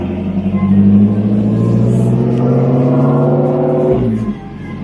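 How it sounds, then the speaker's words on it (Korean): A Porsche Cayman sports car warms up on a Las Vegas racing circuit, its engine holding a loud, close, steady hum that rises slightly before cutting off abruptly near the end. "서킷에 먼저 온 사람이 포르쉐 K맨으로 워밍업을 저 서킷에서 하고 있습니다"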